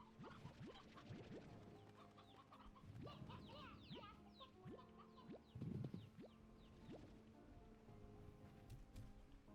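Chickens clucking inside the video game Slime Rancher 2, a busy cluster of short clucks and squawks with soft game ambience underneath, moderately close and continuous.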